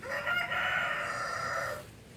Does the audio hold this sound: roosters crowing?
yes